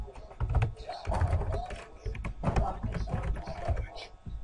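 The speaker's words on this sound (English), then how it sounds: "I'm messing up on my typing." Rapid clicking of typing on a computer keyboard during a Minecraft Hunger Games session, steady and close, with a voice talking over it in places.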